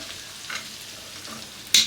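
Ground cumin, mustard seed and fenugreek tipped into a pan of frying fish curry made with fish head and tail pieces and small onions: a soft, steady sizzle with light stirring, ending in a short, louder burst of spitting.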